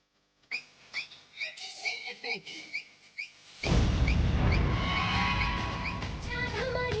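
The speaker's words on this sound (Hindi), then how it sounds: "पांडे जी सीटी बजावे जी।" A whistle is blown in a Hindi fantasy TV show scene, giving a run of short, shrill bursts that rise and fall, before a loud rushing noise suddenly takes over.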